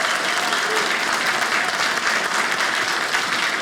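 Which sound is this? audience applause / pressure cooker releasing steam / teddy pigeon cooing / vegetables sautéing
audience applause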